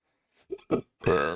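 A person gives a few short throaty bursts that build into one long, loud, rumbling burp close to the ear, with brief silences between.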